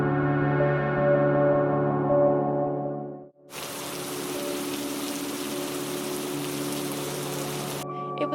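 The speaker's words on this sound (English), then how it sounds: "It was quite misty and foggy along with heavy rain and strong wind" Heavy rain and strong wind on a misty, foggy morning at Point Lynas on the Anglesey coast. A ringing tonal sound fades out first, then a loud, steady broadband rush fills several seconds before cutting off abruptly.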